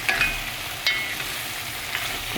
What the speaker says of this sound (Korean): 기름에다가 물을 볶아주면 맛이 있으니까 이렇게 볶아줍니다